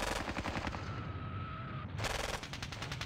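Squad rifle and machine-gun fire in the Squad Battles Red Victory war game, rapid rattling bursts of shots, loud and near, with a short pause mid-clip before another burst.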